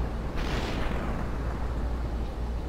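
Gunfire in the SUPERHOT video game fills the whole stretch as a dense, loud, continuous rumble with a sharp burst near the start, and no voices.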